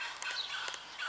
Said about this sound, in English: Hey, is that birds there?